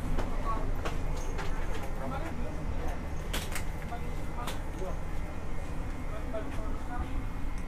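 Inside a Majapahit economy passenger train carriage, a steady low rumble hums with scattered clicks and knocks, while a voice talks over it.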